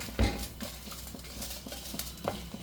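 A spoon stirs a spiced onion and green chilli masala in a pan for Rohu fish curry, giving soft, close scraping and clinking sounds with a light sizzle, one sharper knock near the start.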